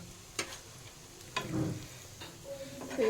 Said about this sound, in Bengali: এরকম করেই লাল লাল করে সবগুলো ভেজে নেব